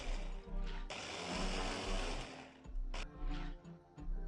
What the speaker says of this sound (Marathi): पाणी टाकून बारीक वाटण करून घ्यायचे।